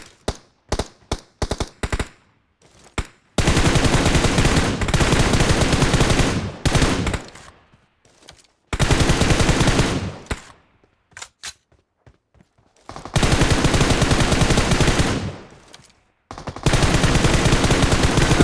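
Gunfire in a PUBG-style battle royale video game: a quick run of separate sharp shots, then several long, loud bursts of automatic fire broken by short silences and a few scattered single shots.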